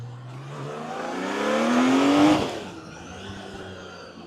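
A Honda CBX1000Z six-cylinder superbike engine revs up into a rising, screaming howl that peaks and then drops off quickly, loud and close, with no one speaking.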